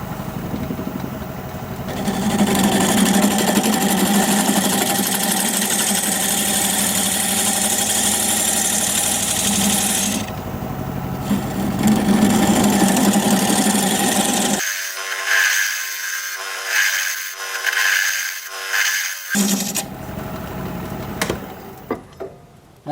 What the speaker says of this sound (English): I'm going to use a 3/8 inch bowl gouge.